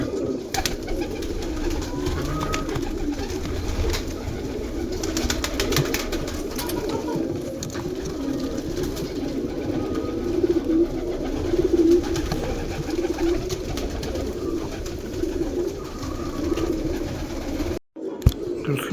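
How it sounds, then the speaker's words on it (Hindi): A breeding pair of pigeons, male and female, coos steadily in a low, continuous murmur for the whole stretch at moderate loudness, with faint rustles and small clicks throughout. "जो कबूतर है"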